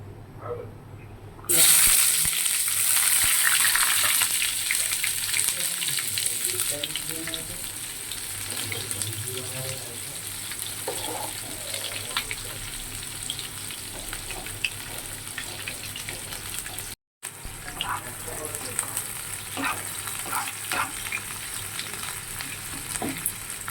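Turmeric-spiced oil for a lentil fritter and ridge gourd dish sizzles loudly and steadily in a pan, with a burst of hiss near the start and occasional stirring scrapes over a constant frying crackle.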